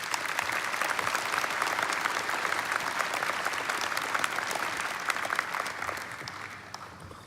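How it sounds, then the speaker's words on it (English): Applause from a large audience at a memorial service in an arena, a steady wash of many clapping hands that fades slightly near the end. "Give him a round of applause of encouragement."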